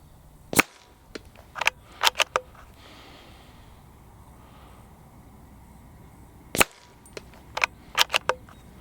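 Shots from a CZ 457 Stainless Synthetic .22 LR rifle at a range, two groups of sharp cracks, each a loud report followed by several quieter clicks of cycling the bolt, over a quiet outdoor background.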